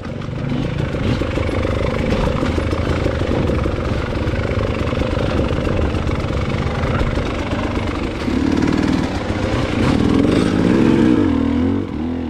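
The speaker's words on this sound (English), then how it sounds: "this kind of riding is going to challenge Matt quite a bit" Enduro motorcycle engine grinding along a rocky trail, a continuous close, loud, rough mid-pitched drone with clattering over the rocks and a slight rise in revs near the end.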